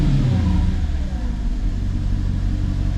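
A Mercedes C55 engine, fitted with intake spacers, idles as it warms up, giving a steady close rumble with a slight rise in revs throughout and no speech over it.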